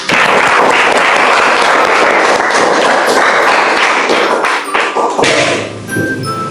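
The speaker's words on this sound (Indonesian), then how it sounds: "Oke, tepuk tangan untuk kalian." Students clapping together in a classroom during a lesson on waste and sustainable living, a loud burst of dense applause that thins into scattered claps and knocks toward the end.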